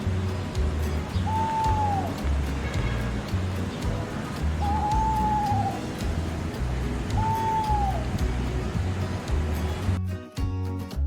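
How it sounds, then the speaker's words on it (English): An owl gives three evenly spaced hoots over a constant low background rumble, each call a short descending note. "Owl."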